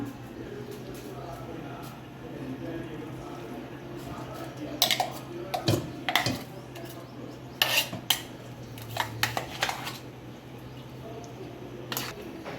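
Metal spoon scrapes and clinks against a steel bowl and grinder jar as freshly ground mango and spinach chutney is scooped out, sharp intermittent knocks over a steady low hum.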